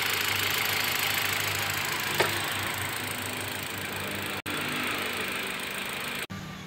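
A Nissan Livina or Mitsubishi Xpander engine idles steadily after a tune-up, giving an even, continuous hum with two brief cutouts near the end.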